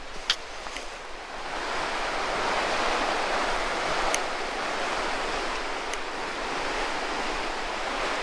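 Steady broadband rushing of a mountain river heard while walking alongside it on a hiking trail in the Écrins, continuous and fairly close with no talk, a few faint clicks on top.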